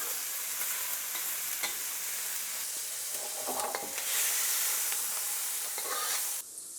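Home-style yakisoba noodles fry and crisp in an oiled pan, giving a steady bright sizzle with occasional stirring scrapes and clicks. No voices break the close, continuous frying.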